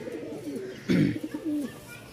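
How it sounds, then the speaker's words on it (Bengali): A male pigeon at a pigeon market gives a few deep, rolling coos, close by, with one louder burst in the middle; faint background voices are present. "নরের একটু ডাক ফুটানো যায় কিনা দেখি"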